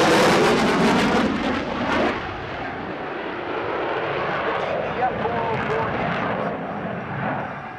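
A US Navy FA-18 Hornet jet screams low over show center at the NAS Oceana Airshow 2009, a loud roaring pass that peaks early and then trails off into a long, fading rumble.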